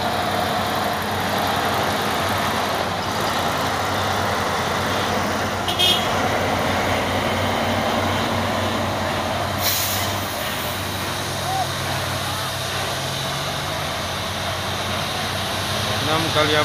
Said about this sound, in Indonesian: Dan ada truk busuk 6x4.